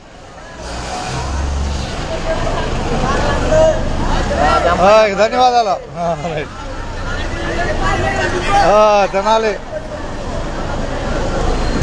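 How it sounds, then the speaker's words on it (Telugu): Tenali–Kotturulanka bus pulling away amid a busy roadside, engine rumble building under people talking and crowd babble, with a couple of loud horn blasts near the middle and end. "తెనాలి కొత్తూరులంక బస్సు బయలుదేరింది."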